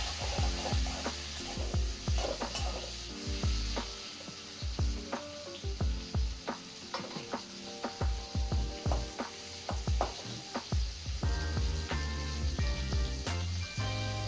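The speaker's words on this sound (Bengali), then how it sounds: "ও কাঁচা লঙ্কাটা আমি তেলের মধ্যেই দিয়ে দিলাম" Green chilies and tomato sizzling in hot frying oil in a pan, with a steady crackling hiss broken by repeated sharp clinks of a spoon stirring against the pan.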